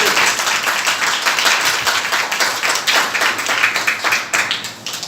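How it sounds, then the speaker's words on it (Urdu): A church congregation gives vigorous applause for the Bible, a full, lively clapping of many hands with slightly uneven rhythm that holds steady for several seconds before thinning at the end. "بائبل مقدس کے لیے ہم زوردار تالیاں بجا سکتے ہیں۔"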